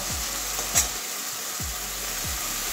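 Washed mushrooms hit hot oil and spices in a frying pan for a Bengali potato and pointed gourd curry, giving a steady, close sizzle. A brief clink comes partway through.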